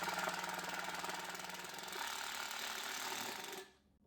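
Drill driving a 2.5-inch deck screw into scrap wood for a workbench, a close, steady, loud rattling whir that holds for several seconds and then stops abruptly.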